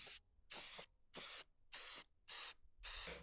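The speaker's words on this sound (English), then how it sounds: "I'm gonna start with spray painting this tray with this bonding primer." White bonding primer sprayed onto a tray in short, even strokes: six quick bursts of hissing aerosol spray with brief silences between them.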